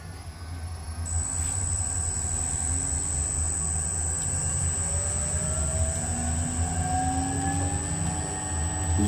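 An electric motor running on an Invent 2.2 kW VFD inverter gives a steady, loud whine and hum with a sustained high tone, holding constant with a slow rising pitch sweep and no speech.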